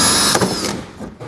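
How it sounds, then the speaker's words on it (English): A power drill bores out the center of a rivet with a 3/16 drill bit while a Blue Ox base plate is fitted to a 2020 Jeep Cherokee; a loud, steady grinding whine runs close up, then eases off. "We're just going to drill out the center,"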